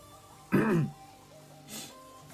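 A man clears his throat loudly and close by during a live game stream, a rough guttural rasp, then gives a shorter, fainter hack a second later.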